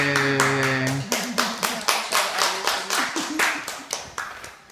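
A small child claps hands in a steady series of about a dozen sharp, close claps, each fading quickly, after a brief stretch of tonal voice at the start.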